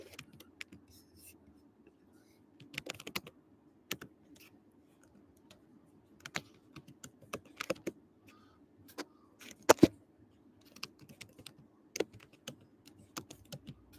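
Keys tapped on a keyboard while an email address is entered, in quiet, irregular bursts of clicks with pauses between them, set against a low steady hum.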